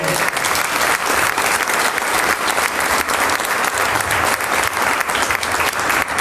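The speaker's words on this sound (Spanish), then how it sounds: "Y den ese aplauso a Cristo el Señor." A church congregation breaks into sustained applause during a sermon, dense rapid clapping from many hands filling the space at steady volume throughout, with no clear speech over it.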